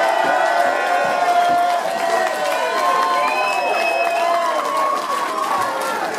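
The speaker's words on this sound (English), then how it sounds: "Once again, Tony, a little round of applause" Audience at a live show at Nuneaton in 2016 cheering and applauding, with whoops and raised voices over clapping, loud and continuous, with tonal voice sounds running through it.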